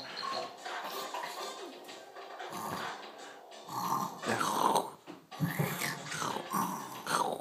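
A dog growls and grumbles in a continuous, fairly close, rough vocalizing, rising in intensity toward the end, with no talking over it.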